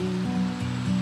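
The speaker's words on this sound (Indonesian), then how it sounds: "Ini sungai." A river, the upper reaches of the Mudung, flows steadily with a continuous rushing water wash, close and moderately loud throughout, with no talking.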